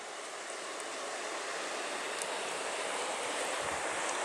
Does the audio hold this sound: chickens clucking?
no